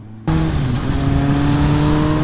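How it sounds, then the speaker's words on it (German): A motorcycle engine revs hard and steady right up close, a loud sustained roar with a buzzing harmonic tone that holds for about two seconds after a sudden start. "setze ich mich dann natürlich aufs Motorrad"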